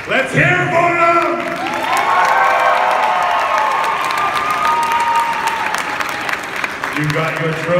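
Audience at a Spooky Empire costume contest applauds and cheers loudly throughout, with whoops and shouts rising over steady clapping, and an announcer's voice carrying on top.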